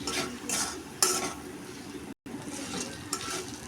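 Fried egg and meat being mixed with spices in a pan, a continuous close stirring and gentle sizzle with occasional scraping accents and a brief dropout.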